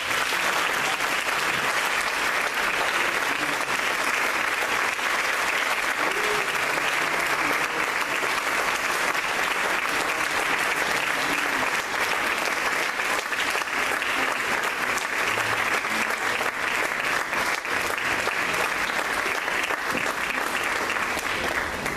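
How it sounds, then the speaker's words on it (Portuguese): A church congregation at a family service claps continuously and evenly, a dense, sustained wash of applause with no letup. "Aplauda o Senhor, faça isso"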